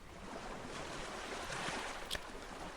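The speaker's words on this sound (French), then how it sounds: "dans ce silence bercé par les vagues" Steady ocean waves washing in a continuous broadband rush, soft and even with a slight swell near the end, alone without any voices.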